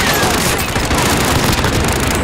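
Video game gunfire: a dense, continuous roar of loud, rapid shots and blasts fills the whole stretch without pause, close and overwhelming.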